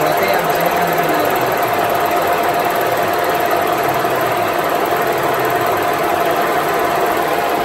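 A lathe machining a warped Peugeot 206 cylinder head gives a loud, continuous mechanical whirr with a steady tonal hum and fine rattling texture, and voices are faint beneath it.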